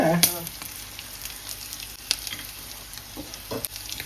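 Fish pieces frying in hot oil at a beach restaurant, a steady bubbling sizzle with occasional louder pops and stirring clinks, close by and with no talking.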